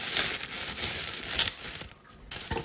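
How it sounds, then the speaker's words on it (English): A fiddly plastic bag being handled and opened, giving close, bursty crinkling and rustling with short pauses between handfuls. "Oh, I hate fiddly plastic bags."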